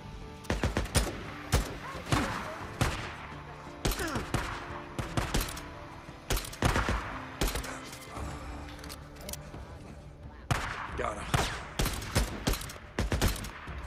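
Gunfire crackles in bursts in the open-world game Days Gone during a shootout with militia, sharp close shots in uneven clusters with short lulls, loud and alone with no talk.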